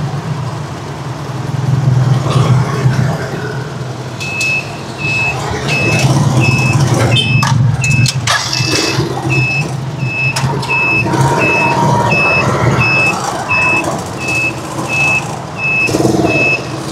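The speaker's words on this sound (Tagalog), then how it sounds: "Hindi na natin mawala itong mga umpukan na sasakyan." Repeated reversing beeps from a truck sound steadily through a crowd of idling vehicles at a gas station, with a continuous low engine rumble and occasional air-brake hiss nearby.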